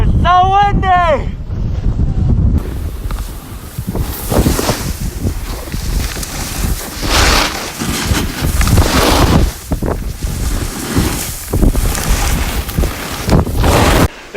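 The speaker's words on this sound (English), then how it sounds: "It's so windy!" Strong wind on a ski slope in Salt Lake, roaring gusts buffeting the microphone in heavy, surging waves after a brief moment of talk at the start.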